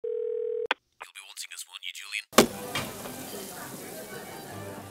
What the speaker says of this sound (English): He reached for the telephone and rang Thompson.